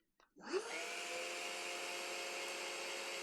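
A Henry Quick Pro vacuum cleaner switching on with a brief click, then spinning up into a steady, even whine that holds alone at a moderate level.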